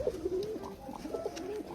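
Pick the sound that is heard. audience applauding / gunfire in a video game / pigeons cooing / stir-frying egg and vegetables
pigeons cooing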